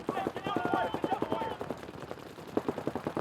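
Paintball markers firing during an NXL pro match, rapid bursts of sharp pops in quick trains, several strings one after another with a brief lull, mid-distance, with a commentator's voice over the shots.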